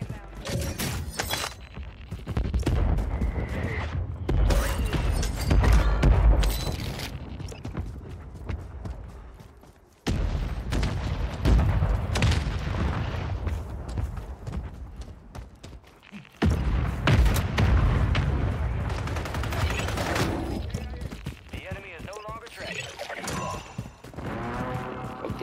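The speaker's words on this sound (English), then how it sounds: "Mortar strike inbound." Mortar strike explosions in the Call of Duty Warzone video game, with booming blasts and clattering debris recurring across a long, busy stretch, broken by brief lulls, with some voices mixed in.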